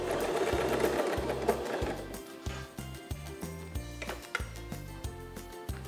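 A sewing machine fitted with a zipper foot stitches a seam on a stretch-fabric off-shoulder peasant blouse, a close mechanical whir breaking into quick rhythmic bursts and taps near the end.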